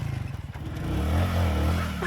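A motorcycle engine is kicked or cranked and catches, a low rough rumble that builds and settles into a steady close idle, with no talking.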